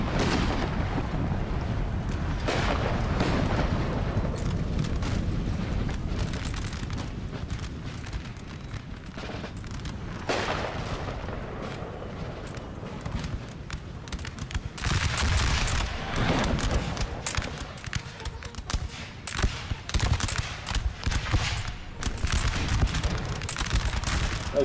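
Cannon fire in Napoleon: Total War, Russian artillery launching cluster shot: dense, continuous rumbling volleys of booms and crackling blasts, loud and sustained, with sharper bursts toward the end and no talk.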